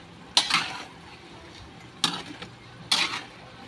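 Three separate scraping stirs sound against a pot of chicken in boiling soy sauce, each a short burst with a light sizzle, spaced about a second apart.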